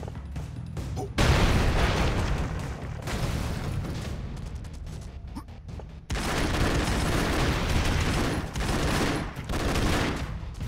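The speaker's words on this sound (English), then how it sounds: "Grenades in here." Grenade explosions in a video game go off in loud, dense bursts of booming blasts and gunfire-like crackle, sustained with only brief lulls between.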